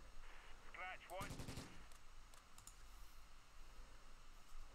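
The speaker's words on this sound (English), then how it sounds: "So let's take a mortar. Fire." Mortar fire in the wartime strategy game Close Combat, a quick burst of sharp rattling blasts followed by a few scattered reports, with faint clicking between them.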